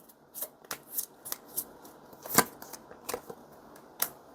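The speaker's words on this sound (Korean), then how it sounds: "그럼 마지막으로 조언 카드 한 장만 뽑아 볼게요." Tarot cards are shuffled and drawn by hand, making soft riffling flicks and sharp snaps in an irregular series, close and quiet, with no voice.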